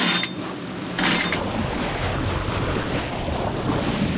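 Out on a sailboat, steady wind roars across the microphone over a broad wash of waves and surf, loud and continuous throughout.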